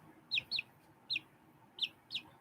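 Chickens with feathered feet give five short, bright chirping calls in uneven pairs and singles, close by, with soft rustling underneath.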